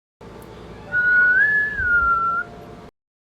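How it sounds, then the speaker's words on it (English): A single sustained whistle heard at night in Appalachia, one clear tone that rises slightly and then falls, lasting about a second and a half against a quiet background hum. "I'm laying down in bed and I hear a whistle."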